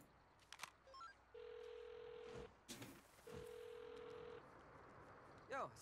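Burner phone ringing in the Saints Row video game: two long electronic ring tones a couple of seconds apart, mixed with game sounds and brief clicks, with a voice speaking between the rings.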